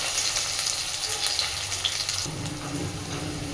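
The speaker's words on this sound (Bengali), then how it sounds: "পেঁয়াজটা এবার একটু ভেজে নেব" Sliced onions fry in a pan for a bhetki fish-bone chorchori, a steady close sizzle with a faint hiss that shifts slightly partway through, no voices.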